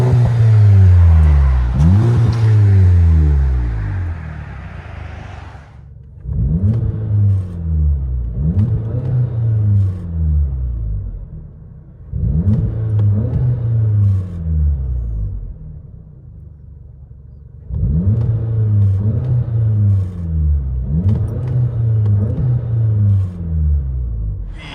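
A 2017 VW Golf GTI with a twister muffler and rear muffler delete revs loudly in repeated bursts, the engine climbing and falling in pitch several times with short pauses between pulls.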